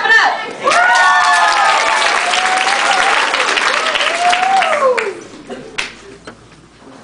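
A young audience breaks into loud, close applause and cheering at a performance, sustained clapping with whistles and shouts over it, then fading into scattered claps and quieter voices.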